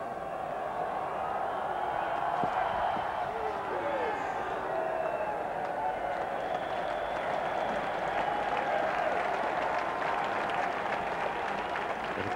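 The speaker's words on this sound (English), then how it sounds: "He appreciates the applause for uh, having Mr. King pair" A cricket crowd at a 1995 England versus West Indies Test match applauds from a distance in a steady, even wash of clapping that continues throughout, with no talk over it.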